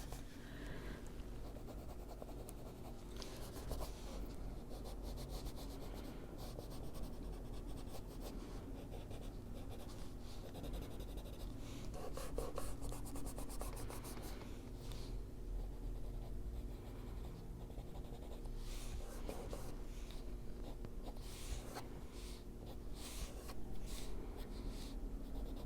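Steady soft rubbing and scratchy strokes of marker ink being blended on paper during adult coloring of a Hanna Karlzon Forest Kingdom book, continuous and close over a faint background hum, with no talking.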